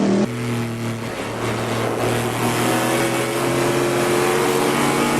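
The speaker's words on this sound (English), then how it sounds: "That's the sound of an aluminum block titanium valve V8 pushed to the limit." Aluminum-block V8 race car engine with titanium valves, pushed hard at Le Mans, holding a loud, steady high-rev drone with strong harmonic tones throughout, close and continuous without any speech.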